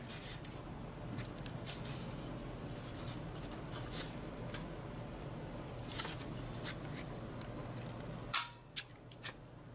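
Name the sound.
CADY corner rounder punching paper corners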